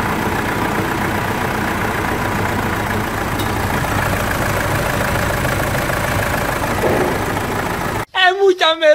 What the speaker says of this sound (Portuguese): essa aí é a primeira partida do motor